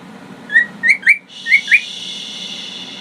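A pet bird whistles five short, bright chirping notes in quick succession, loud and close, in an indoor room, followed by a steady high hiss.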